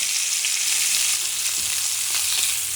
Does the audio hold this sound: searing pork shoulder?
yes